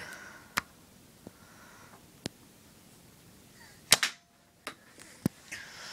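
Several sharp snapping shots from a Sharpshot dart tag gun pop out one at a time with pauses between them, the loudest burst near the middle, against a quiet indoor background.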